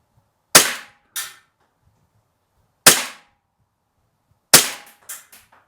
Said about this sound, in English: Might as well go 10 rounds since this is just a semi-auto pistol, the 1911.